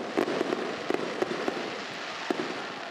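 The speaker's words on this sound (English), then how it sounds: "We apologize for the fireworks in the background." Fireworks burst in the background at a high school football game broadcast, a series of sharp irregular pops and cracks, some close together, over a steady crowd-like wash of noise.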